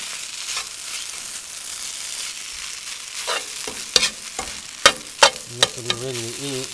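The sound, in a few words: golden chanterelle mushrooms frying and stirred at a campsite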